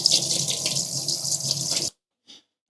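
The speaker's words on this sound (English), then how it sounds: "I'm going to wash the brush." Tap water runs steadily into a sink as a paint brush with acrylic paint is rinsed, a close, continuous splashing hiss that cuts off suddenly, leaving a few faint drips.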